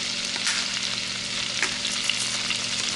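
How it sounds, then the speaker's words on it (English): Chopped onions and garlic frying in a pan over high heat: a loud, steady, close sizzle with faint stirring scrapes, and no talk. "I'm gonna add a little bit of these chopped onions"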